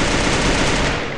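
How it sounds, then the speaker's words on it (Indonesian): Rapid, dense automatic gunfire from a shooting video game fills the whole moment, loud and continuous with no voices over it. "Ada yang nembak lagi atas factory"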